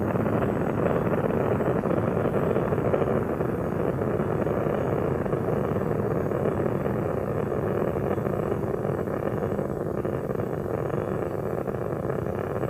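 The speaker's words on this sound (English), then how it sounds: "3 engines on board now throttled down to 2/3 throttle to prepare the spacecraft" Space Shuttle Endeavour climbing away from Kennedy Space Center on its three engines, heard as a steady, dense, distant roar that holds unchanged throughout, with no one speaking.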